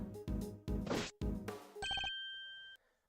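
An old-style telephone rings in Ace Attorney Investigations 2, a short trill of bell tones that trails off into a sustained electronic ring. It comes right after loud, dense game music bursts and stands out clearly with no voices over it.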